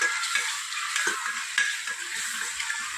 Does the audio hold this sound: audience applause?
no